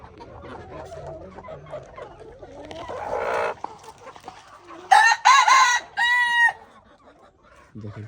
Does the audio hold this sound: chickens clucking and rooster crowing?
yes